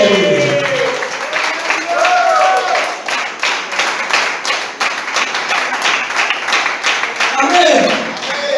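A church congregation breaks into steady applause during a worship service, dense rhythmic hand clapping that rises and holds, with a preacher's voice calling out over it.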